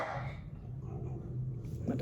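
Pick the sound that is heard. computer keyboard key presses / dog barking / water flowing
dog barking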